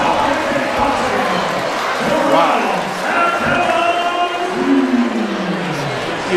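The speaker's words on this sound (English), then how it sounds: "We heard quite a few people with that gasp behind us" A kickboxing event crowd gasps and murmurs in a loud, continuous wash of voices in an arena, with rising exclamations and scattered shouts.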